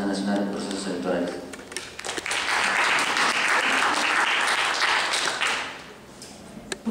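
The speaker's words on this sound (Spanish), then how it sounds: "Ahora, fuertes aplausos por favor para la doctora Casalino" Audience applause at an indoor civic electoral-education session, a dense burst of clapping that swells and holds for several seconds then fades, heard after a voice over a loudspeaker.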